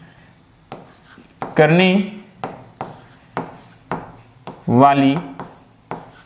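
Marker or chalk writing a definition of uniform circular motion on a board during a Class 11 physics lesson, a series of short scratchy strokes in a steady rhythm, heard close under someone speaking.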